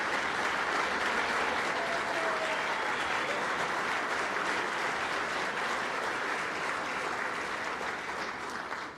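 Sustained applause fills the room at the 2017 Rolex LPGA Awards, many hands clapping in a thick, even wash that holds steady for the whole stretch and tapers slightly at the end, with no talk.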